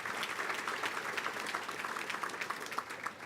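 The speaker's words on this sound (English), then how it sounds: "Let's give them a round of applause as well." Steady applause from a crowd at a school athletic hall of fame dinner, many hands clapping in a dense, continuous patter that fades slightly toward the end.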